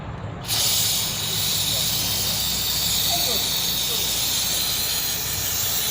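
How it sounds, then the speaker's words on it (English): Carburetor cleaner sprays onto a Briggs and Stratton small-engine carburetor during a rebuild, starting abruptly as a close, continuous hiss that holds steady for about five seconds. "Okay, now some carburetor cleaner."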